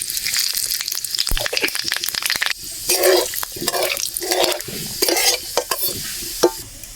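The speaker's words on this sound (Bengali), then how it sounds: "এবারে দুটো গোটা শুকনো লঙ্কা ফোড়ন দিয়ে দিচ্ছি।" Whole dry red chillies and whole spices splutter into hot oil with sharp crackling pops. The spluttering rises in bursts, and metal stirring clinks and scrapes against the pan run through it.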